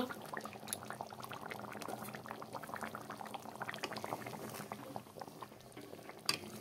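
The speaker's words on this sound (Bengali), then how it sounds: "আমার মাছের ঝোলের রেসিপিটা উঠে গেল, প্রায় রেডি হয়ে গেল।" Tomato and katla fish curry bubbling steadily in a pot, a soft continuous simmer with dense small pops, fairly quiet and without talk.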